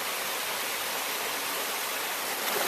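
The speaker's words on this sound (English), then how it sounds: "you start to hear finally some of the water that we've been following downhill gathering together and starting to pool to make a larger and larger creek." Creek water rushing downhill beside a trail on the Appalachian Trail between Indian Grave and Nolichucky, a constant close broadband roar with no voices.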